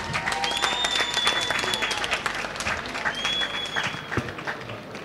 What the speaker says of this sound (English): May I request all of you to give a resounding applause to everyone